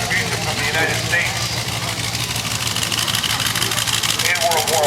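A World War I Liberty aircraft engine runs at an air show, a loud, steady rumbling drone that holds even throughout, close by, with voices talking over it.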